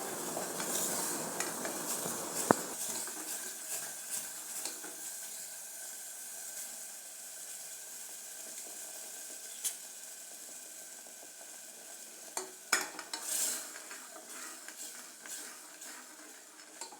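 Ground masala sautéed and stirred in a pan with a splash of water, a soft steady sizzle and hiss running throughout, with occasional spoon scrapes and light clinks against the pan.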